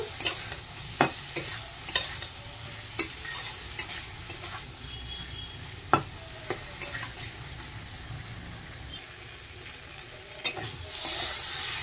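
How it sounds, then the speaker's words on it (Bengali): Fried pointed gourd stirred and sautéed with spices in a pan for a fish curry, giving a soft continuous sizzle punctuated by irregular clicks and scrapes of a spatula against the pan, close by. "এখন আমি ভাজা পটলগুলো দিয়ে দিলাম, দিয়ে মশলার সাথে ভালোভাবে আবার কষিয়ে নেব"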